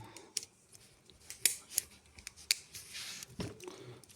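Sharp metallic clicks and snips, close by, coming in an irregular series with short quiet gaps and no voices.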